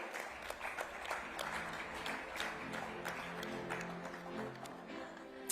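A crowd at an awards ceremony applauds a former army chief, with steady, fairly loud clapping over a faint tonal background that runs the whole time and ends with a sharp final clap.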